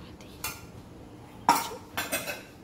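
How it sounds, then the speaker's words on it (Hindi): A metal kadhai set down on the stove and ghee spooned in for a fasting-day dosa masala: a few sharp, close metallic clanks and clinks spaced over a couple of seconds, no talk. "एक कढ़ाई चढ़ा दी, इसके अंदर मैं थोड़ा सा घी डाल रही हूँ"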